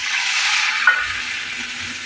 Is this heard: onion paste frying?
yes